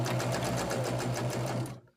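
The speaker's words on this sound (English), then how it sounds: "I'm going to chain piece those again, so I'm not going to break the stitches just yet" A sewing machine chain pieces patchwork for a pillowcase cover, running in a steady close rhythmic whir for nearly two seconds before cutting off sharply.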